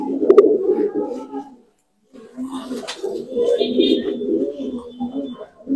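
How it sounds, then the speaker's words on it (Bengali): Pigeons of the fulsia breed, a male being paired with a hen, coo in low, continuous murmuring phrases close by, with a brief pause midway and occasional higher flutters over the cooing. "আমার ফুলসিয়া পায়রা আমার ঘরে"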